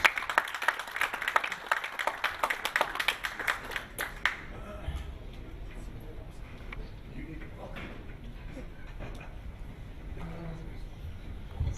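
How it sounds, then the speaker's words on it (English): An audience applauds a poet at a literary festival event, with a burst of dense clapping for about four seconds that quickly fades into room murmur and light shuffling. "Let's show our love and appreciation of poetry to Sudeep by giving him a gigantic round of applause."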